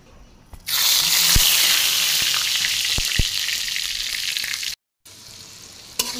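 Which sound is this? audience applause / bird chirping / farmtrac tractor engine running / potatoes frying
potatoes frying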